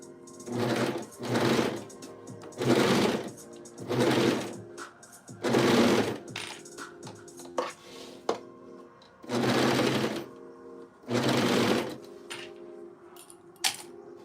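Serger sewing machine stitching a polo shirt, running in repeated short bursts of rapid mechanical whirring separated by pauses, close and fairly loud, with small clicks between runs.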